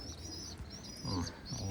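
Soft, low pigeon coos repeat close by, with faint chirps and light rustling in the background.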